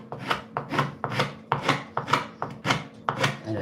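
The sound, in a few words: cross-grain cutting of wood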